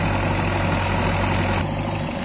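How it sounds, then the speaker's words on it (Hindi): A Sonalika 750 tractor engine, rated 55 hp, runs steadily as it pulls a machine, a loud low diesel drone with a constant hum that eases slightly near the end. "अब इसकी ताकत देखें, खिंचाई कैसे खींच के लेके जाएगा मशीन को यहाँ से।"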